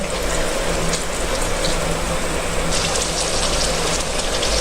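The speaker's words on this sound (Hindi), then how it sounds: "ये देखिए प्याज हमारा फ्राई हो रहा है" Onions frying in a pan make a dense, steady sizzle and crackle, loud and close, continuous without pause.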